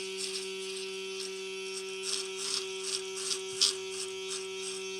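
A Laifen electric razor buzzes steadily while shaving, its motor giving a constant close hum with small rasping surges as it cuts through hair, with no talking.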